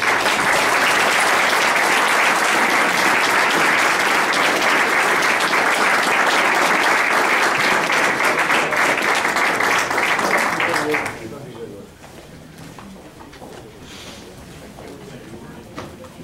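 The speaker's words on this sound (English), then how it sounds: "Please give these businesses all a round of applause and round of support." An audience in Mason City, Iowa applauds local businesses with loud, dense, sustained clapping for about eleven seconds before it abruptly drops to quiet room noise.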